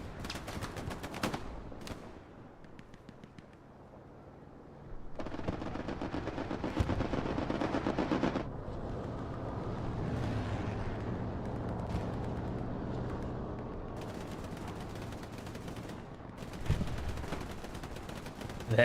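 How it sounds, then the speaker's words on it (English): Machine gun fire in the World War II shooter Hell Let Loose on Omaha Beach, long rattling bursts of rapid shots with sharp cracks and distant battlefield rumble, some bursts near and loud, others quieter. "The MG here from Big Rig kind of cutting down this supporting defense."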